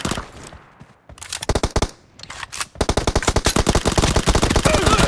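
UZI submachine gun firing in a warehouse video game map, several short rapid bursts of loud, crisp automatic fire followed by a longer sustained burst, close and dominant.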